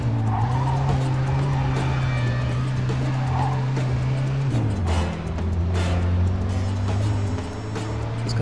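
A car in the video game Mafia II drives with a steady, loud engine drone, and its tires skid and squeal through the turns. The engine note drops partway through, and no one speaks.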